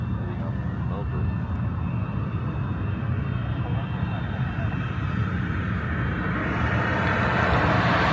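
A Jetstar jet airliner roars steadily overhead at an airport, a broad continuous engine rumble that holds level throughout with a slight swell near the end.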